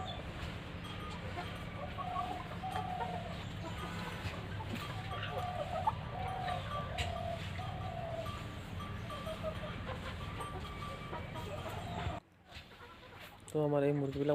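Local hens sit in bamboo nests to lay eggs, giving soft, intermittent clucks close by over farmyard background noise, with a person talking near the end.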